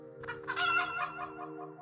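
TukTuk the chicken gives a single loud, close squawking cluck that swells and then tapers off over about a second, heard alone with no talking.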